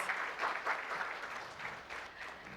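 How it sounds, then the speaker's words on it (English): Audience applause at an insurance industry panel event as a speaker is called to the stage, a brisk, even round of clapping from a seated crowd lasting a couple of seconds without speech. "Can we have a huge round of applause?"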